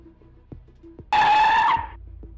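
A car brakes hard to a stop, its tires letting out one loud, sustained screech lasting about a second that cuts off abruptly, against a quiet background with faint low thumps.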